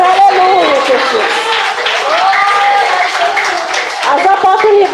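Church congregation clapping and applauding, a steady spread of hand claps running throughout under loud, sustained speech and voices.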